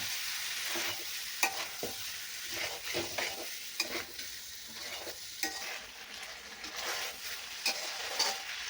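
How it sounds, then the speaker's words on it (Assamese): Chicken pieces fry on medium flame in a pan for Indian chicken curry, a continuous close sizzle broken by frequent scraping stirs of a spoon against the pan, alone without speech. "দি মই মিডিয়াম ফ্লেমত অলপ টাইম লৰাই থাকিম।"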